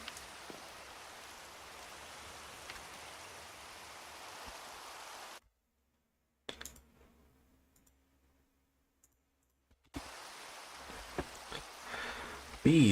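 Rain falling steadily in the Minecraft modpack All The Mods 10, a soft continuous patter that cuts out to near silence in the middle before resuming.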